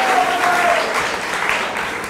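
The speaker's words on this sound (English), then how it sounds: "So we have a round of applause for them as they leave." A school quiz audience at a senior high school competition finale gives a dense, sustained round of applause, loud and steady like rushing noise, with a brief tone in the background.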